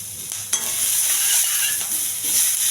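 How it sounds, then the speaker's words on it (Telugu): Curry leaves, chana dal, cumin, onion and green chilli frying in hot oil, a loud continuous bright sizzle with a couple of light stirring knocks near the start. "కొంచెం దోరగా వేయించాలి."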